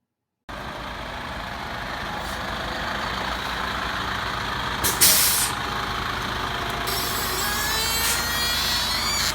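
A school bus arrives with a steady engine rumble and a sharp hiss of air brakes partway through, heard up close and fairly loud, with no voices.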